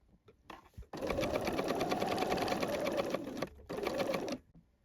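A domestic sewing machine runs a gathering line at its longest stitch setting, a steady close mechanical whirr for several seconds with a brief pause near the end.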